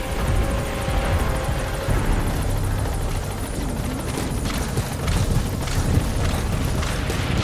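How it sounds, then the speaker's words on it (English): A support helicopter arriving in Metal Gear Solid 5 The Phantom Pain, its rotor roar loud and continuous with steady thumping blade chop and no talk. "Support helicopter has arrived."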